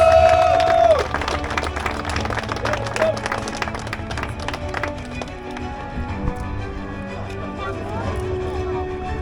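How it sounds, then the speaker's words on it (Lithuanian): A crowd applauds the winners at an autocross race on the Klovainiai track, with a mix of clapping and cheering under an announcer's voice and background noise. "Plojimai dar sykį"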